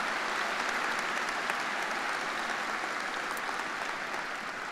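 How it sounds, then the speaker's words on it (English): A large audience at a high school commencement ceremony claps for speakers and performers, a thick, even wash of applause held for several seconds at a steady level with no voices over it. "How about one more round of applause for all of our wonderful speakers tonight"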